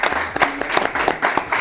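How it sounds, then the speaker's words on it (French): Studio audience applause on a French comedy show: a steady patter of many hands clapping, moderately loud and close, continuing for the whole stretch without talk. "Franchement, bravo, tonnerre d'applaudissements."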